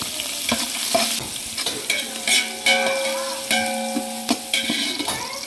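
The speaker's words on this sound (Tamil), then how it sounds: "பட்டை வகை நல்லா பொறிஞ்சிருச்சு" Cinnamon and whole spices crackle and sizzle in hot oil for a Sunday biryani, with steady close frying broken by several sharp stirring scrapes and clinks of a spoon against the pan, and no talking.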